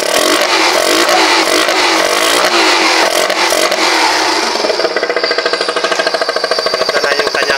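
A Yamaha Sz-R motorcycle with a misfiring engine, loud and close, revving hard with a harsh rattling roar that settles into a rapid, choppy pulsing beat.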